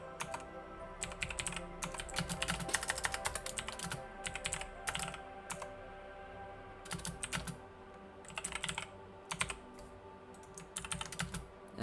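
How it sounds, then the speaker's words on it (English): Keys clatter on a computer keyboard in close, steady bursts of typing with short pauses, over a faint constant hum, with nobody speaking. "I'm not gonna read out what I'm typing, I'm just gonna type it."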